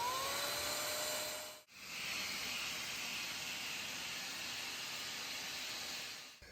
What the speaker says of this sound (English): I'm going to be using the steamer for the tufted areas and for my problem area